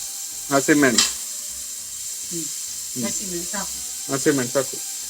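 Chopped onions and green chillies sizzle in a hot pan for village-style chicken sukka, a steady frying hiss running beneath intermittent speech.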